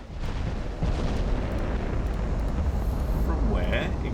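Naval torpedo explosions in the warship battle game Ultimate Admiral Dreadnoughts, a dense, sustained low rumble of blasts close by and loud throughout, with a voice talking over it.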